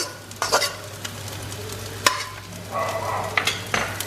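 Sausage and onion frying in a pan for Thai fried rice, a steady sizzle with a low hum beneath, punctuated by a few sharp scraping stirs of a utensil against the pan.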